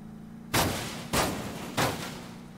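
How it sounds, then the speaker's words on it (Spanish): Three sharp, loud gunshot blasts from the video game Rules of Survival, spaced roughly half a second apart, each with a short rumbling decay over a low steady hum. "Uy, uy, escucho disparos,"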